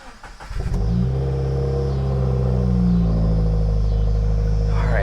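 A car engine starts after an oil change with a Fumoto oil drain valve fitted, a brief cranking catch and then a steady, close, low idle rumble that holds on.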